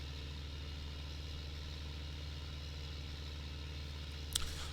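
A tractor engine in Farming Simulator 15 drones at a steady low rumble throughout, with a brief faint click near the end and no talk.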